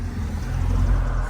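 A Ford Mustang S650 with a 5.0 Coyote V8 and active exhaust idles with a steady low rumble, close and even, with no talk over it.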